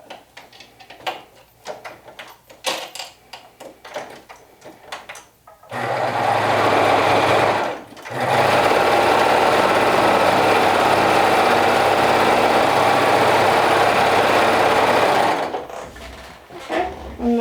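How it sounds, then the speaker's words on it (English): A sewing machine top-stitches a sleeve seam on a garment, running in a loud, steady whir for several seconds with a brief stop, after some fabric handling and clicking. "Make sure I keep the same direction of the top stitching, so I top stitch up."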